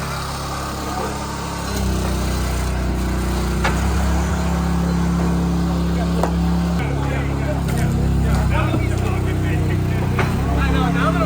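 A Wolfe Ridge 28 Pro-X wood splitter engine runs steadily outdoors with a loud, constant low drone, occasional knocks and rattles, and voices faintly underneath.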